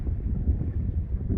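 Outdoor wind blowing over a boulder, buffeting the microphone with a steady, close, low rumble and no other sound.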